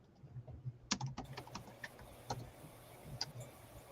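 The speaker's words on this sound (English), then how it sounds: "let me finish typing this in" Quiet keys clatter on a computer keyboard in an irregular patter of light taps and a few firmer strokes, close but faint, with no talking.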